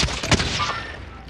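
Gunfire in a Warzone match, a quick burst of shots with one louder crack, layered over the game's background ambience.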